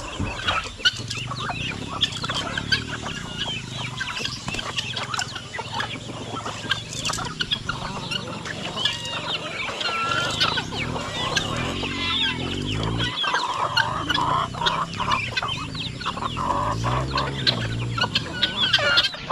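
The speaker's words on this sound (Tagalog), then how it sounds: "May mga sisiw naman tayo ng manok oh." Chickens, including chicks, cluck and chatter steadily at a rural backyard poultry pen in the Philippines during the rainy season, a dense overlapping flock sound throughout with occasional louder calls.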